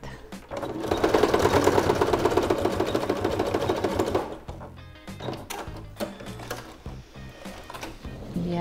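A sewing machine stitches a fabric handbag, running in a fast, continuous mechanical whir for about four seconds, then stopping, followed by scattered clicks and handling of the machine and fabric nearby.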